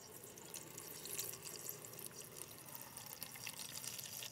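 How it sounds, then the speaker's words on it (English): Water poured into the tank of a drip coffee maker, a soft steady splashing trickle that runs continuously at low level, fairly faint and with no voices. "So let's go ahead and pour some more water."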